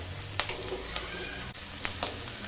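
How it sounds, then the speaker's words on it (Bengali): Onions and curry leaves are stirred in a frying pan, a quiet steady sizzle with a few sharp scrapes of the spatula against the pan. "হালকা করে আমি পেঁয়াজটা নেড়ে দিয়েছি।"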